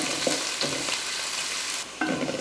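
About 150 grams of small onions with curry leaves sautéing in hot oil, a close steady sizzle with spoon scrapes and stirring clatter breaking through at intervals.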